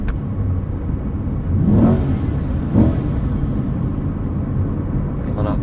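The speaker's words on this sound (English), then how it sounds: "So you hold both paddles in, and then you can rev it at any point" A Chevrolet C8 Corvette engine revved in neutral, heard as a steady idle rumble with two short rising revs in quick succession, a voice talking over it.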